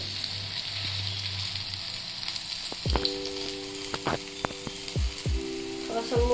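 Chana dal pakoras frying in hot oil give a steady bright sizzle throughout, with a few soft plops and bubbling bursts as more pieces are dropped in, close and fairly loud, no talking.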